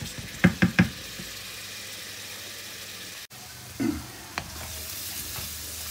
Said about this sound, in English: just let the base gravy do its thing for a minute or two